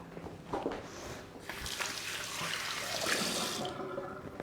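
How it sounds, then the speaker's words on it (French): Tap water running steadily into a kitchen sink while hands are washed during Thermomix cooking, a continuous close splashing hiss with some sloshing, no talk. "Je me lave les mains."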